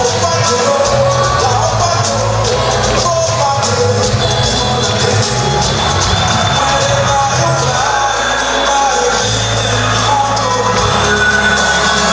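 A crowd at the Miss Grand Aflao beauty pageant cheers and applauds. Dense, continuous crowd noise with yells and whoops runs throughout, loud and close.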